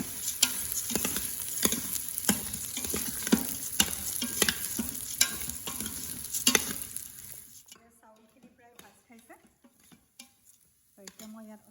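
Washed basmati rice being fried with cashews, raisins and garam masala, heard as a close sizzle with brisk, rhythmic spatula scrapes. The scraping stops partway through, leaving faint clinks and quiet kitchen sounds.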